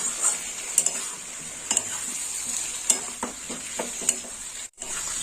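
Ginger-garlic paste is stirred in a hot frying pan for Bengali pui shak chorchori: a spatula scrapes in regular strokes, roughly once a second, over a steady close sizzle, with no voices.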